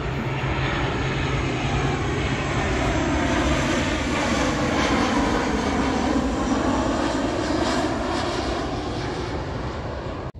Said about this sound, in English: And we have another airplane coming.